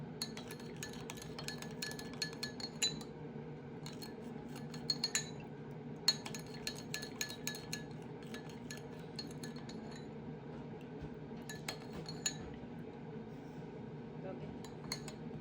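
A spoon clinks softly against a glass while sherbet is stirred with brown sugar, giving a scattered, faint tinkling over a low room hum and a murmur of background voices.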